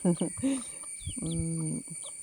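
A hen clucks close by: a few short, sharp clucks followed by a longer drawn-out call.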